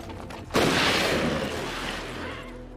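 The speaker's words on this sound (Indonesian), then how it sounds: "Mendengar suara tembakan, Kevin kembali" A gunshot in a film, one sudden loud blast followed by a long, broad, rumbling decay that fades slowly.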